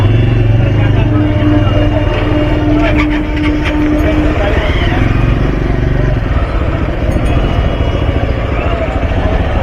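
Traffic jam of motorbikes, totos and vans at Nalpur station: idling and revving engines rumble loud and close throughout, with a horn tone early on and a voice talking over the noise.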